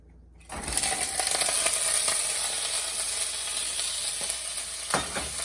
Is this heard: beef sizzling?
yes